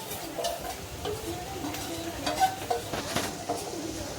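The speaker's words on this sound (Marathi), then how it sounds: "आता आपण पनीरचे काप टाकू त्यामध्ये. चांगलं परतून घ्यायचं." Slices of paneer are sautéed in a pan with a soft, steady sizzle, broken by light stirring scrapes and clinks.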